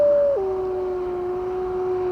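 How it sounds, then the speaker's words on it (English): Wolves howling in a gothic night setting, a single long sustained howl that slides down in pitch and then holds steady, clear and prominent over a quiet background. "Would you listen to those wolves?"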